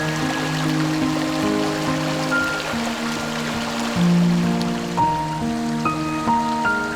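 Water flows and trickles over rocks at Blaylock Creek, a crossing on the Winding Stairs Trail in Arkansas's Ouachita National Forest, a steady close babbling with bright bubbling tones and no voices.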